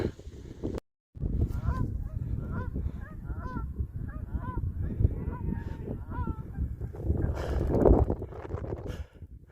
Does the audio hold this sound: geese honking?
yes